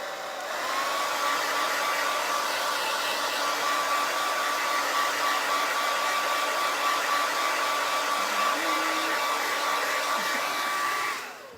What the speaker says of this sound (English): I'm just going to put some cool air on it so it'll be sure it's dry.